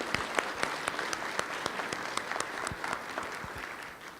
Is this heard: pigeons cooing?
no